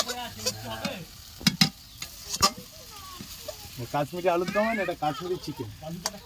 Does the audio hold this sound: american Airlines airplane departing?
no